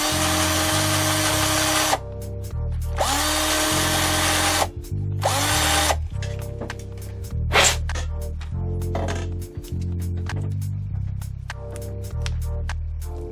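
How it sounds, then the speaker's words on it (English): A power drill bores out the rear shock mounting holes on a Sports Drift GS1002 RC car, whining loudly up close in several separate runs with brief pauses, over a steady tonal background. "I think I'm going to have to drill out these holes slightly just so these will fit in there."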